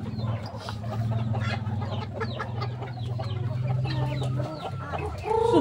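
Chickens cluck and squawk in a farmyard during egg harvesting, a dense run of short calls over a steady low hum, growing louder and busier near the end.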